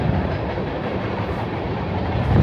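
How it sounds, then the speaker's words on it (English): A train passes by a rural alpaca farm in the Appalachian hills, a loud, steady broadband rumble with rail clatter that holds through the clip and swells slightly at the end. "I thought the train coming through was a nice touch."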